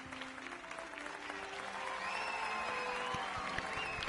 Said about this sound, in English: Applause for myself.